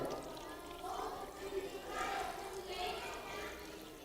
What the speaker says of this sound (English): Watch what happens when I put this water